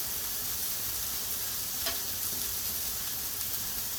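An onion fries on a hot griddle beside a burger patty, giving off a steady, dense sizzle with a brief soft clink partway through, close by and with no voices.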